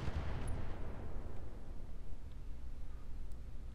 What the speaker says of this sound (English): Lasers can start shooting.